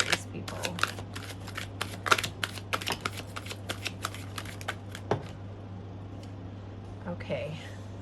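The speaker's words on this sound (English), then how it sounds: "Just shuffle one more time." Rapid crisp riffling of a tarot card deck being shuffled, a flurry of sharp flicks close by that slows and stops, with a person talking briefly near the end.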